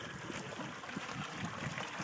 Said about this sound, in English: It's just a little babbling brook, basically, but it's just enough to sustain us.